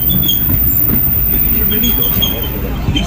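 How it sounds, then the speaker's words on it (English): The Disneyland Railroad train rumbles along steadily with a low, constant running noise and faint high squeals, while a voice speaks over it. "Bienvenidos a bordo del Disneyland Railroad."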